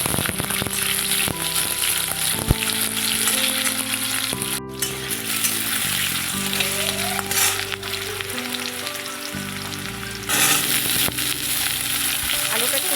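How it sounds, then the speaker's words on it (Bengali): Potatoes frying lightly in oil in a pan, a steady dense sizzle running without a break, with faint tonal background sounds underneath. "প্রথমে আমি আলুটাকে একটু ভেজে নেব"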